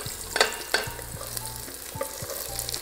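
Onion, carrot and root vegetables frying in hot vegetable oil for zucchini caviar, with a steady close sizzle and several sharp stirring scrapes and knocks of a utensil against the pan.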